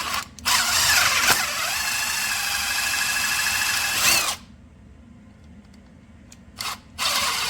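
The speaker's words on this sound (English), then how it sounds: "and I'll start drilling." A power drill bores a hole in the body of a Mercedes Metris van, a loud high whirring burst lasting about four seconds before stopping, followed by quieter handling sounds and a brief final buzz of the drill.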